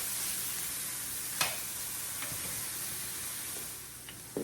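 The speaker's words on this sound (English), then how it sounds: "I am going to lay my beef here and quickly just saute the pieces." Beef pieces saute in a Saladmaster 11-inch skillet with a constant close sizzle, broken by a few sharp clicks and scrapes of stirring.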